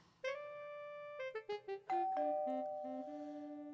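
A doorbell rings in a clear melodic chime, a sequence of descending tones with some quick repeated notes, ringing on and fading, fairly quiet and alone.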